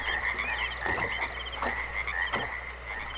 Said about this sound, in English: So you get some nice swampy sounds here. Got some frogs, birds, crickets.